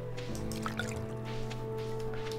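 Water from a watering can patters and drips onto crops in the Stardew Valley video game, soft splashy drops over a quiet background of tonal game music.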